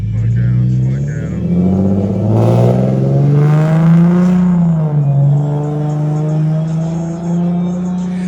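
Car launching hard and accelerating, its engine note climbing and rumbling steadily, with people talking over it throughout.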